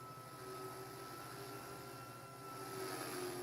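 A radio-controlled helicopter flies nearby, giving off a continuous whining motor hum with a steady rotor drone whose pitch wavers slightly and grows a little louder toward the end.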